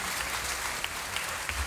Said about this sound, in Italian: facciamo un applauso a questi